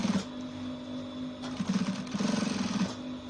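A sewing machine stitches around the notch collar of a button-down shirt in short bursts, its motor humming close by with a rapid pulsing rattle during each run and brief pauses between.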